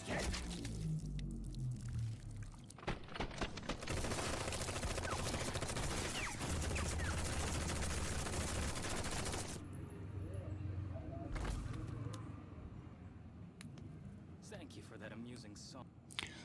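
Gunfire in a Fate/Strange Fake anime scene, where a major opens fire on a man, comes as loud bursts of shots and impacts mixed into a dense, busy soundtrack with talk over it.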